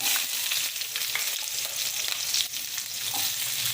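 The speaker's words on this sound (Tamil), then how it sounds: "நல்லா வதங்கட்டும் ரெண்டு பச்சை மிளகா கொஞ்சம் உப்பு போட்டுக்கலாம் நல்லா சீக்கிரம் வதங்கிடும்" Sliced onions and fennel seeds sauté in a hot pan with a steady, dense sizzle and occasional stirring scrapes, close and continuous with no talking.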